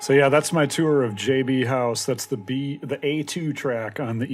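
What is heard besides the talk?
No distinct noise like a dog, phone or traffic.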